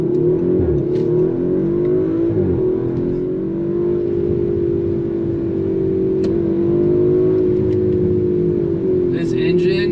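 2019 Audi RS5 Sportback twin-turbo V6 under hard launch acceleration: a loud, close, steady engine drone holds throughout, dipping briefly and then climbing again.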